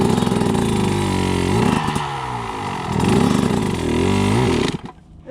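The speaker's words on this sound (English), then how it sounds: "the back tire is gonna spin in that sand" KTM 150 XC-W dirt bike in sand with its rear tire spinning: a loud, close buzzing engine revs up and down for several seconds, then drops away abruptly.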